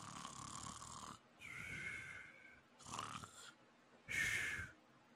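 A person imitates the snoring of a coworker dozing at a help desk, making four drawn-out, wheezy snorts with short pauses between them, fairly close but quiet.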